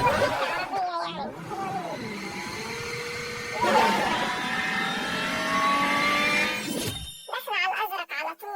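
Lamborghini revving and accelerating in PUBG Mobile, a steady mid-pitched game engine roar that swells and holds for several seconds, with a speaking voice mixed in before it cuts off near the end.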